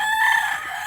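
A rooster crows loud and close during a visit to a family's home yard full of chickens, one sustained call with no talking.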